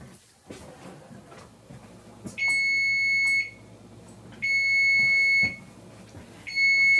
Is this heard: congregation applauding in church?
no